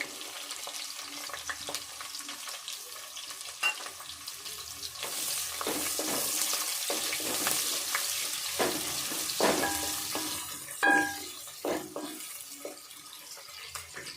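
Onions frying in a pan after garlic for a chicken dish, a close, steady sizzle broken by scattered stirring clinks and scrapes.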